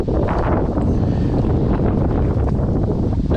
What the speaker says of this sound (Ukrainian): Вітер такий гарний.